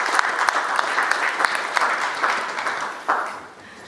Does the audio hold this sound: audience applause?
yes